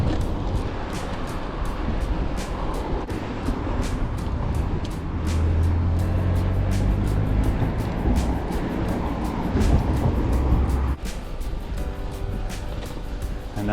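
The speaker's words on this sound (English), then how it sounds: "And now we are safe from that crazy car traffic." Busy street traffic rumbles past, with cars and heavier vehicles passing in a steady, loud wash of engine and tyre noise, no voices present.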